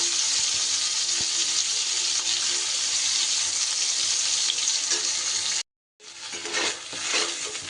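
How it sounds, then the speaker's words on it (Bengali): Sliced eggplant fries in hot oil in a Bengali home kitchen with methi greens to follow, a loud continuous sizzle that cuts out briefly, then resumes with stirring bursts. "এবার আমি এই তেলের মধ্যে কেটে রাখা বেগুনগুলো দিয়ে দেব"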